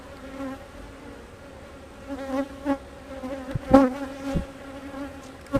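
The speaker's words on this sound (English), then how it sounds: "Get these bees off, y'all." Honey bees buzz on hive frames during a hive split inspection, a close steady hum with several louder individual buzzes passing near the ear.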